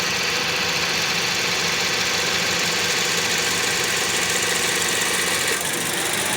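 A Toyota Vios gen 2 engine idles with its radiator cooling fan running at high speed, a loud steady whir and broadband rush over a low engine rumble, constant throughout with no talk.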